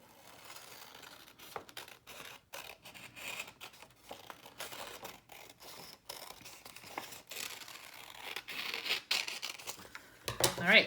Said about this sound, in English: cut right there where we just folded